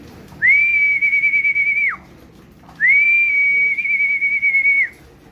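A person gives two long, steady whistles, each about one and a half seconds, close and loud with a brief gap between them, to call racing pigeons back to their loft.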